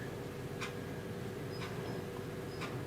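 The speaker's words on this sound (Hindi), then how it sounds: "जो घड़ी टिक टिक टिक होता है, जैसे ये हो रहा है" A clock ticks faintly and evenly, three soft ticks about a second apart under a constant background hiss.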